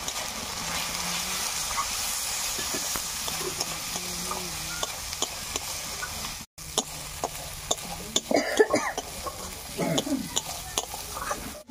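Spice paste with salt and turmeric frying in hot oil while it is stirred. A continuous sizzle and hiss runs throughout, broken by scraping strokes of the spoon and a brief gap partway through. Louder clatters come near the end.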